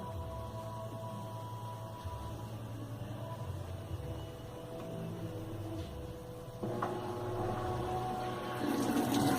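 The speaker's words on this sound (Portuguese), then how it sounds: "Ela já acionou aqui a válvula de entrada d'água, né?" The water inlet valve of a Brastemp Active 11K washing machine fills the drum with a steady rushing hum and hiss. Partway through, the flow grows louder and brighter, heard up close with no talk.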